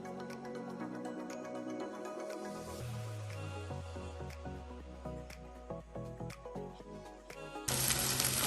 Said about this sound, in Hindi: ऑनियंस को अच्छे से फ्राई कर लेंगे लो से मीडियम फ्लेम पे 4 से 5 मिनट तक